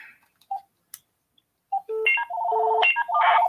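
Telephone ringing in a studio as a caller gets through: a short, clean, fairly loud series of electronic ring tones and beeps, with a steady warbling pattern of repeated tones and no voices over it.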